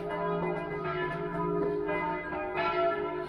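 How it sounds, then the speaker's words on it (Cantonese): A nearby church bell beside the Fisherman's Bastion in Budapest rings in steady, resonant strokes that are loud and clear, each ringing tone overlapping the fading hum of the last. "有鐘聲響，"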